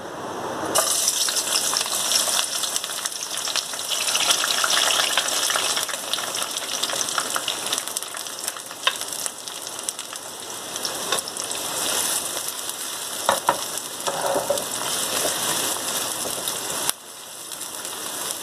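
Onions fry in half a cup of hot mustard oil in a pan. A loud, continuous hiss and crackle carries close and steady throughout, with occasional stirring knocks and no talk.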